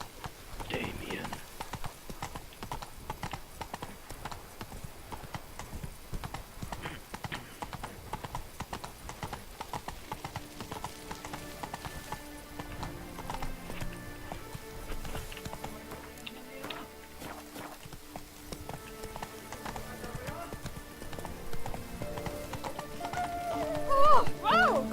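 Horse hooves clip-clop in a steady, rapid rhythm throughout a galloping ride in the video game The Witcher 3: Blood and Wine, joined by a neigh and in-game music, with talk heard over the hoofbeats.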